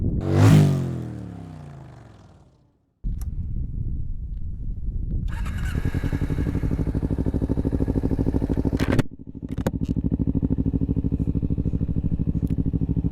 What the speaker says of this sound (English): this bike, I think it's a 2009 Ninja 250